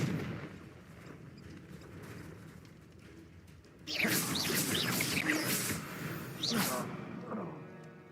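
Confringo blasting spells cast in Hogwarts Legacy, a quiet rumbling stretch giving way to a loud burst of bright crackling blasts and whooshing impacts, with a voice speaking throughout.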